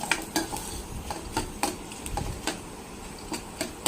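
Kashmiri and red chillies being sautéed in a pan for a spicy chicken gravy, with quick, regular spoon taps and scrapes over a faint sizzle, close by and without talk.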